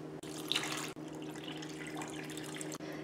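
Water is poured onto 2 kg of sugar with lemon, orange blossom water and cinnamon for honey-flavoured glucose syrup, a soft, steady, fairly faint trickle lasting about three seconds.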